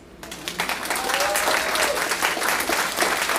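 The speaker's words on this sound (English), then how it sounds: "You can clap on that one." A crowd claps during a mayoral campaign speech in Mesquite, applause swelling in quickly after a brief quiet start and holding as a full, steady roar of hands, with a faint whoop rising in the middle.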